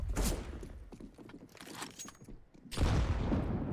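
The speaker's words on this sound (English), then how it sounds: "Oh, that's a brutal nade." A grenade blast in a CS:GO match between BIG and Heroic on Vertigo, heard as a loud burst of booming gunfire-like noise at the start, quieter scuffling and shots in the middle, then a second heavy rumbling surge toward the end.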